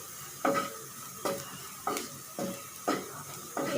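Onion and ground spices fried and stirred in a pan for a green banana and hilsa fish recipe: five or six distinct scraping stirs at a steady rhythm over a soft, close sizzle, with no talking.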